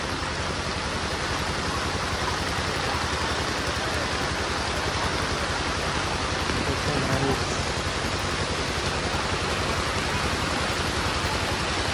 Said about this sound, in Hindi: भाई, बारिश तेज में भी लोग जा ही रहे हैं।